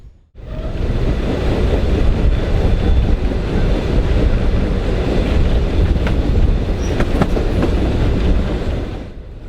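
A steam train excursion rumbles past close by in Joliet near Chicago, loud and sustained, with rhythmic wheel clatter and occasional metallic squeals before it fades slightly.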